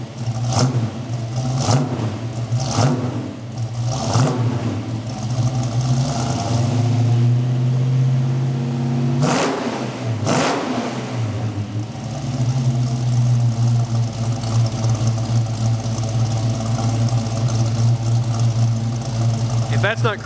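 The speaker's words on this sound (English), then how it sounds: "You got to listen to this rev." A 1969 Dodge Charger fitted with fuel injection is revved in several sharp blips, settles briefly, revs again, then falls to a steady idle, loud and close, with someone talking over it.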